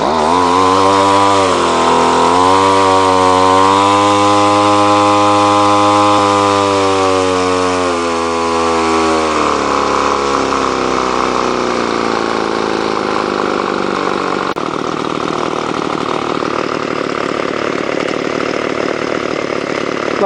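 Two-stroke line trimmer engine with a carburetor needing adjustment, running at a raised buzzing speed that wavers, then dropping into a rougher, steady idle, loud and close with no talk.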